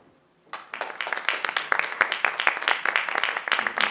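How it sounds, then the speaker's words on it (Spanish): Audience applause at a presentation, starting suddenly after a brief hush and building into steady, moderately loud clapping from a modest crowd of many hands. "Un fuerte aplauso nuevamente, por favor."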